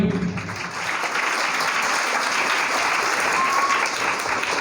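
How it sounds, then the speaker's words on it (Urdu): Steady, dense applause from an audience at a school award ceremony, filling the whole stretch at an even, full level with no talk over it. "آپ سب کی بھرپور تالیاں۔"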